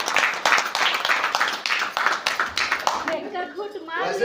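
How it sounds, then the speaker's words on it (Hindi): Loud clapping from an audience at an achievers' celebration event, a dense burst of applause lasting several seconds before it thins out and a voice begins speaking. "जोरदार ताली से राखी जी को भी लिए स्वागत किया जाएगा।"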